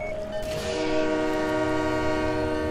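In Halo 3: ODST, a train sounds a sustained tonal horn blast that swells after a brief rumble and holds steadily, close and fairly loud over a low rail hum.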